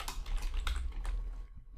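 Steady, rapid typing on a computer keyboard while entering programming code, close and continuous keystrokes that stop near the end with no talking.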